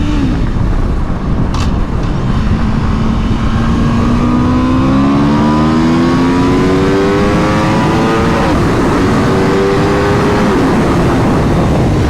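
A 2023 Aprilia RSV4 sport motorcycle revs hard as it accelerates on a ride, loud and close, its engine note climbing through several rising gear pulls with brief shifts between them.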